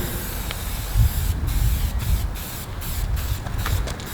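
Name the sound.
Molotow spray paint can spraying graffiti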